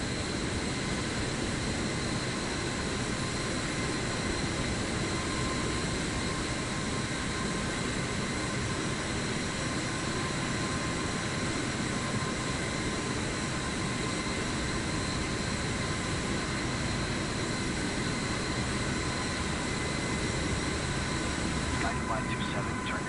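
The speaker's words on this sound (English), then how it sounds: "I think I have an aircraft behind me" An aircraft on the runway in Microsoft Flight Simulator 2024, its engines a continuous broadband roar with a steady whine, unchanging throughout, with talk in the background.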